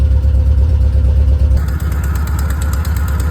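A 1972 VW Type 3 Squareback engine, long unused, idles in a driveway with a loud, close, chugging low rumble. Its tone shifts slightly partway through, and no one speaks.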